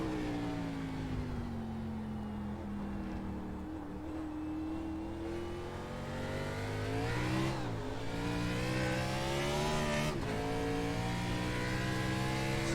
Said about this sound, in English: Spun the tires back onto the oval.